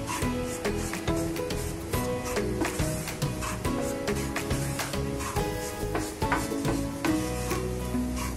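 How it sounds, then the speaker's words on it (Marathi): Amaranth flour being stirred and roasted in ghee in a pan, with a steady close scraping and stirring rhythm over a faint continuous sizzle, no talking. "आपण आता हे थोडं थोडं करून राजगिऱ्याचं"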